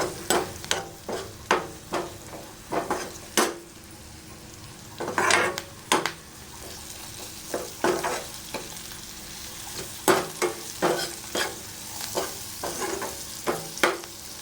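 Turmeric and spices are sautéed in a pan, with a soft sizzle underneath and a series of distinct scraping and stirring strokes at an uneven rhythm, near and fairly loud, with no talk.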